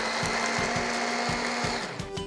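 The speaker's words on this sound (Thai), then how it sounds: "แล้วก็ใส่ไปตัวในโถปั่นแล้วนะครับกระเทียม ใส่ตัวพริกไทยนะครับทำการปั่น" Electric blender grinding coriander root, garlic and pepper for Thai shrimp cakes, a loud steady motor whine with rhythmic thumping pulses as the ingredients knock around the jar.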